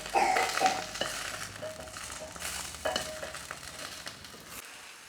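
Eggplant sautéing in oil in a pan: a steady soft sizzle with scraping and stirring strokes of a spoon, louder at first and easing off toward the end, close by with no speech.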